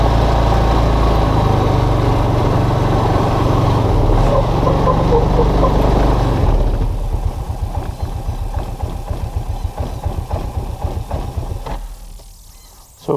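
A Linhai Big Horn 400 4x4 ATV engine with an intermittent crank-and-stall fault idles loud and close, its steady roar easing partway through into a rougher, pulsing putter that then fades.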